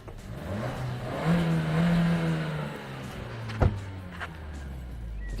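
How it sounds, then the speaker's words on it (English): A Suzuki Swift Sport with a sports exhaust revs in a few rising and falling blips, fairly close and moderately loud, with a sharp knock midway and no talking. "you want to hear it, don't you, revving?"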